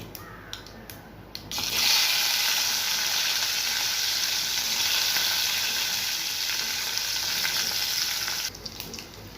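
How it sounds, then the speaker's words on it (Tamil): Mustard seeds splutter in hot oil as tempering for a raw banana fry. After a short quiet start, a loud, dense, steady crackling hiss runs close up and then cuts off near the end. "கடுகு பொரியுது"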